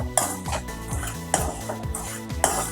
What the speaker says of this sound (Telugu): ఇప్పుడు రవ్వ వేసుకుందాం, కలిపెడతా ఉండాలండి, లేకపోతే బ్లాక్ వచ్చేస్తుంది.